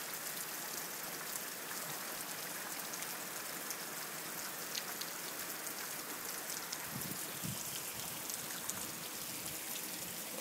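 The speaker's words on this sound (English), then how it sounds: "It's really raining now." Heavy rain pours down outside in a steady, dense hiss, with faint scattered patters standing out now and then and no one speaking.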